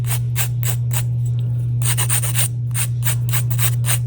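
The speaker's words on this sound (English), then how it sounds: "Yes, I know I'm sanding over these" Repeated short strokes of sandpaper rubbing across a cast resin ornament, in a quick, even back-and-forth rhythm close by over a constant low electrical hum.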